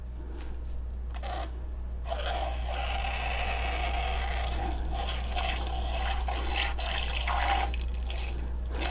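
Water is poured into a lavender essential oil body spray mixture as the water phase, a steady running, splashing pour heard close up over a constant low hum, with no talking.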